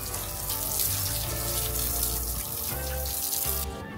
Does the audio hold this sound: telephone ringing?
no